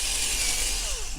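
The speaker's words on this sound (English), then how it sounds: "I think I've got to drill a bit more of the rivet head off" A power drill grinds steadily into the metal rivet head on a Corgi Avengers toy car during restoration, a continuous close whirring buzz.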